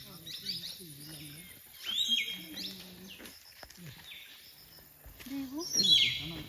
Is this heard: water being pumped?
no